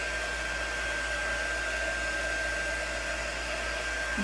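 A hair dryer blows steadily to dry ink on a craft club transfer project, a continuous close, loud whirring rush with a fixed whine, unbroken for the whole stretch with no talk.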